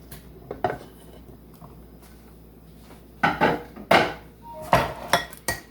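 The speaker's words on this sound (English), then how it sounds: "So you add all of this to the pot." Chopped ingredients such as diced Golden Delicious apple tip into a cooking pot for German herring salad, landing in a few sharp clattering knocks and scrapes of a utensil against the pot, close and bright, with quiet gaps between.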